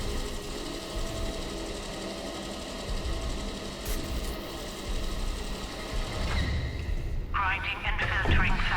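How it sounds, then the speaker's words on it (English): A sample grinder in the video game Atomfall whirs with a steady mechanical hum, rising into a buzzing, warbling grind toward the end, under a synthetic announcement voice. "Grinding and filtering sample."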